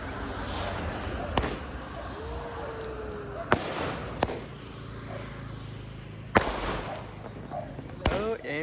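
Firecrackers burst at a wedding celebration near a road, several sharp separate bangs spread over a few seconds against background crowd noise and voices.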